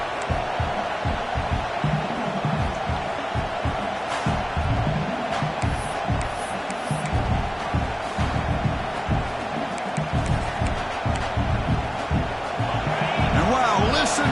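Football stadium crowd roaring during a game, a dense, continuous wall of loud cheering and noise with scattered shouts and thuds throughout.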